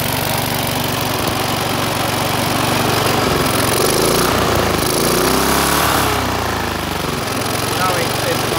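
A Rover four-stroke lawn mower engine runs loud and close, a steady rough mechanical drone that swells as it accelerates midway, with no voices over it.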